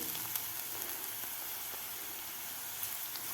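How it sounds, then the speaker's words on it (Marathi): Chopped onion and garlic sauté in an oil pan for gawar bhaji, giving a steady, close frying sizzle with fine crackle that holds alone and unbroken throughout. "लसणाबरोबर आपल्याला कांदा आणि लसूण आणखीन एक ते दीड मिनिट परतून घ्यायचं आहे"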